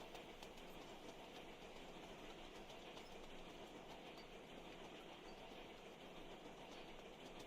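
Steady rolling clickety-clack of a train running in the video game Sweet Transit, a continuous broadband rumble that holds an even level throughout with no voices.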